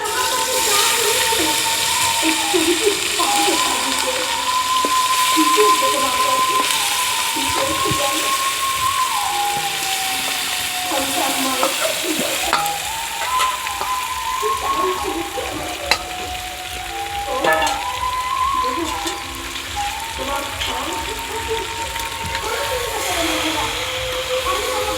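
Mutton being fried in hot oil with whole garam masala spices, a steady close sizzle running throughout with stirring scrapes and a voice talking over it.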